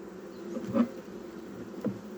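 Soft, steady buzzing of bees outdoors, with a couple of brief louder passes as insects fly close to the microphone.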